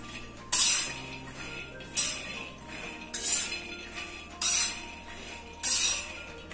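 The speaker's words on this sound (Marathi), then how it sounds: "शेंगदाणे शक्यतो तव्यातच भाजा म्हणजे सगळीकडनं एकसारखे भाजले जाईल।" Peanuts are dry-roasted on a flat tava over a low flame, with several separate bursts of scraping and clinking as they are stirred, loud and close.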